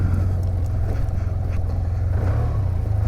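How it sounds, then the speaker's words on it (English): A SYM Maxsym TL 508 scooter engine idles steadily nearby while warming up, a low even rumble with no revving or voices. "Let's get some heat in the engine first."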